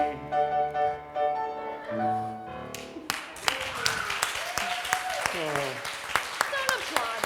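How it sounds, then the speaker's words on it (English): Applause breaks out at a home Christmas cabaret singalong after a rendition of Joy to the World, a dense patter of clapping that follows the singing and continues under voices. "Don't applaud that."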